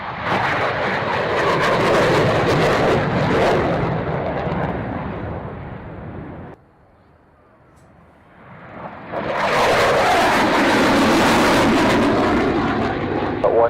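A fixed-wing airplane takes off for an air display, its engines roaring loudly and close, dropping away briefly to near quiet in the middle before the roar surges back.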